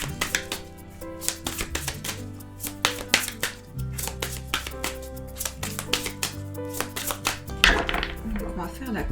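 Tarot cards shuffled by hand, giving a quick series of crisp slapping and riffling taps in an uneven rhythm over soft background music with low sustained tones.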